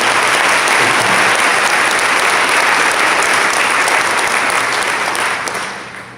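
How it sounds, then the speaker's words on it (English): A room full of people gives a round of applause at a Rhode Island children's advocacy breakfast event, steady dense clapping at full volume for about five seconds before tapering off near the end. "Let's give a round of applause to Elizabeth."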